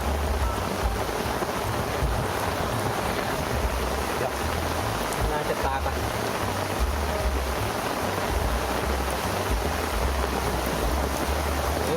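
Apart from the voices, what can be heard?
rain and thunderstorm while fishing at sea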